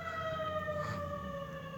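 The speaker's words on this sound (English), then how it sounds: "And there's a siren in the background, so I do apologize." Distant emergency siren wailing faintly and steadily in the background, its tone holding without a break.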